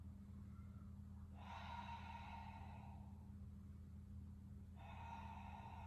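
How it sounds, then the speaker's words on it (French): Slow, audible breaths during a beginner Pilates exercise, two long airy exhalations through the nose or mouth over a low steady room hum, with no talking. "Encore 2 respirations comme ça."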